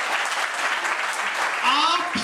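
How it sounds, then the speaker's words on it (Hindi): A congregation at a Hindi church service claps loudly and continuously, a dense wash of applause that fills the room, with a voice rising faintly near the end. "जोर से ताली बजाएंगे उस परमेश्वर के लिए।"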